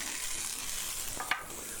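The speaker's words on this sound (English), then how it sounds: "Get that bell pepper in there, our bok choy greens, and green peas." Bell pepper, bok choy greens, green peas and green onions stir-fry in a hot pan for a venison stir fry, giving a steady, soft sizzle with a brief crackle near the end.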